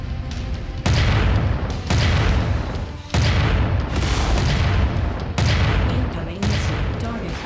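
Missile explosions in the MechWarrior 5 Mercenaries video game, several heavy booming blasts in quick succession, loud and close, each burst swelling and then settling into a rumbling roar with little pause between them.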